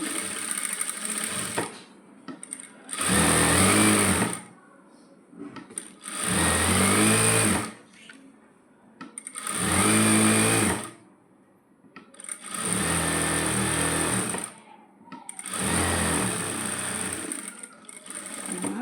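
A sewing machine stitches a coat in five loud bursts of a few seconds each, separated by short quiet gaps. It whirs close by, with no talking.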